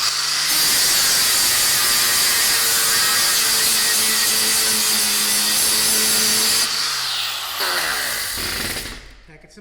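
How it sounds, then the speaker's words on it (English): Metal is ground for a custom front gate, a loud, harsh, continuous grinding roar that runs for several seconds before it winds down and trails off near the end. "Grind it."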